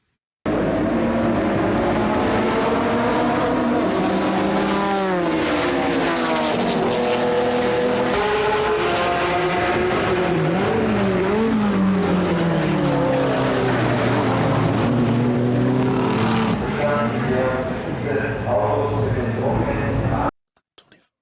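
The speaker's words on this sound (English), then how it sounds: "The Porsche Carrera 924 GTP." A Porsche 924 Carrera GTP race car engine roars loudly and nearly without pause for about twenty seconds, revving up and down through gear changes before it cuts off abruptly near the end.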